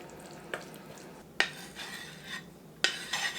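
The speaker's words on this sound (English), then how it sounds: "we're going to stir in our fresh tomato" Fresh tomato is stirred into a ScanPan skillet for chicken spaghetti, with a few sharp utensil scrapes and clinks against the pan over a faint background sizzle.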